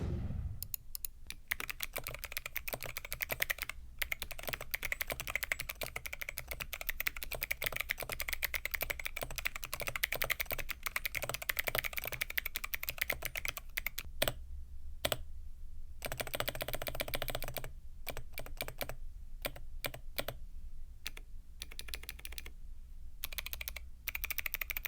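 Steady, rapid keystrokes clatter on a heavy all-metal custom mechanical keyboard, each press sharp and close, with a few brief pauses near the end.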